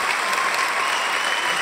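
Steady applause on a podcast, a brief, even wash of clapping heard alone with no break.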